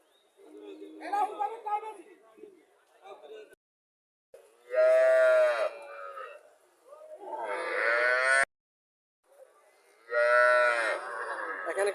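Long-bodied dairy cow of an unusual colour on a farm, giving several loud, drawn-out moos up close, separated by short silences, with a voice faintly present.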